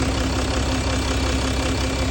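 A 3-litre diesel engine in a Range Rover runs steadily at idle, a close, even mechanical drone with a faint knock and no voices over it.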